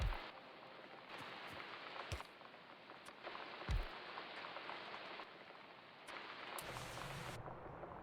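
Steady rain hiss in the video game Factorio, broken by several abrupt cuts and shifts in level, with a few low thuds and a duller patch of rain near the end.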